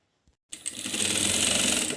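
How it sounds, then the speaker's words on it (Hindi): A sewing machine stitches fabric strips: after a brief tap and a moment of silence, the motor starts and runs in a steady, close, rapid rattle. "इसी तरह से इधर भी हम इस तरह से पट्टी को रखते हुए सिलाई लगा देंगे।"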